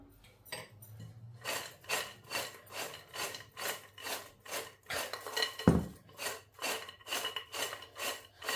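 Ingredients for a Sri Lankan prawn murukku snack are stirred with salt and chili powder in a bowl, making a quick, regular scraping and rubbing rhythm of about two strokes per second, close and fairly soft.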